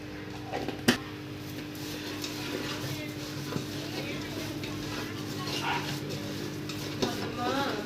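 Masala vada batter with cumin is mixed in a bowl, giving a continuous soft, wet churning texture with occasional knocks, while a voice murmurs in the background.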